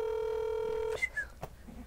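A phone call ringing out: a steady outgoing ring tone sounds for about a second, then cuts off into brief background voices and clatter.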